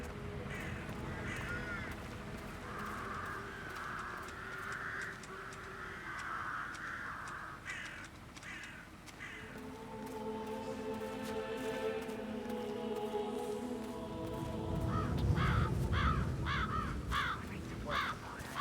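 Crows cawing in the Dartmoor level of the Hitman 3 video game, repeated harsh caws near and far over a low ambient bed, with game voices talking at moments.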